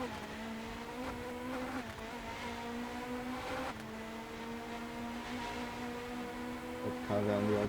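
Hypercars and GT3 race cars lap Road Atlanta in the Rennsport racing game, with a steady whining engine drone that shifts pitch at each gear change, audible under ongoing commentary.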